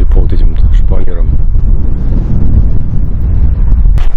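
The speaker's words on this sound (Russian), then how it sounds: "На улице у нас ветрено" Steady outdoor wind buffeting the microphone, a loud low rumble throughout, with brief voice-like sounds near the start.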